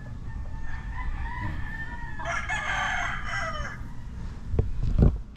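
A Boston Sweater gamefowl rooster almost five months old, F1 Golden Boy line from a game farm, gives one hoarse, mid-distance crow that rises over steady outdoor background noise, followed by a couple of low knocks.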